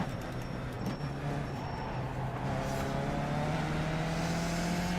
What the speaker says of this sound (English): I'm getting on the brakes